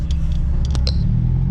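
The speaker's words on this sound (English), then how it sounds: "A lot of cars pulling up." Cars rumbling nearby at an outdoor car meet on a hot day, a steady low engine drone with a few faint high clicks and squeaks over it.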